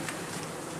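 Honeybees from a swarm buzzing close by near a hive, a brief dense hum lasting under a second.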